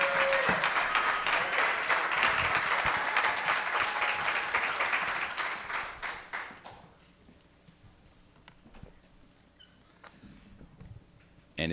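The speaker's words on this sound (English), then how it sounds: "another round of applause for all of our candidates this morning" An audience at a 2017 Atlanta mayoral forum applauds its mayoral candidates: dense, loud clapping for about six seconds, then it thins out and fades into a quiet room.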